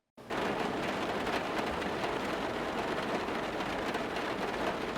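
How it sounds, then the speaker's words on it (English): Rain drums steadily on the hollow metal roof of a van, a dense, even patter with a slightly reverberant tone that starts abruptly and continues unchanged. "Right here in the van, it's hearing the raindrops hitting the van."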